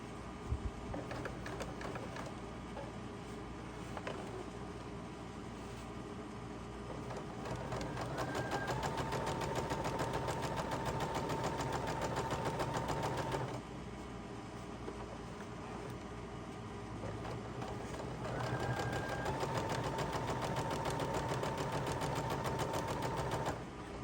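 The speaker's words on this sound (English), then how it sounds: "now we're going to sew this" A sewing machine stitching quilt pieces runs in two long steady bursts of fast whirring, separated by a brief pause, close and even with a faint high whine.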